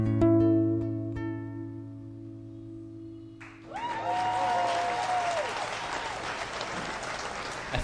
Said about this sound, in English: another round of applause for Lisa and Michael Gungor, everybody